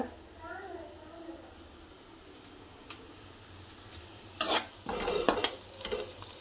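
Onions, green chillies and cucumber pieces frying in a pan for a cucumber curry, a faint low sizzle with brief spoon scrapes and clinks growing louder toward the end, near, with a voice talking early on.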